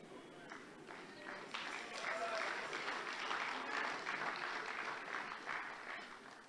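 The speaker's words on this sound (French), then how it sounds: "Là, vous avez applaudi pour Dr Bomboko" Applause from a church audience swells up and carries on as a moderate, steady patter of many hands, heard from some distance in a reverberant hall.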